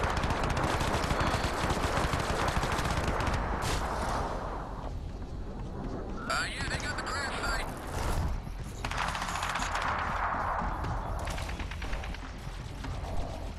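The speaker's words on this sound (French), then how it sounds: "Ah, avec ce sniper en plus, je tire n'importe comment." Dense, near-constant gunfire and explosions fill a Crysis 3 beta multiplayer match, loud bursts overlapping throughout with brief shifts in texture, a voice talking occasionally beneath.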